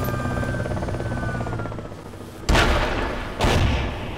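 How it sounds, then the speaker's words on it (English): Two heavy explosions in DayZ boom out in quick succession after a rumbling stretch, each a loud sudden blast that decays slowly, close and without speech. "I killed somebody with the explosion"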